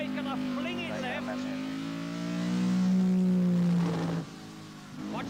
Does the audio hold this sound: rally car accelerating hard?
yes